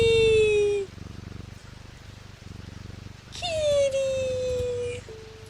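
A cat in the puzzle game Strange Antiquities gives two long, drawn-out meows with a falling pitch, separated by a pause, over a soft rhythmic music bed.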